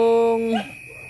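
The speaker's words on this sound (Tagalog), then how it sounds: "Ang ingay no aso na ano niya eh." A dog gives a single short whining yelp close by, a rising and falling tonal cry lasting about half a second before quiet outdoor background in a rural province setting.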